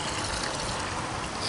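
Water gushing steadily into a container during a water-filling game round, a continuous dense pour that stays loud and unbroken throughout with no voices over it.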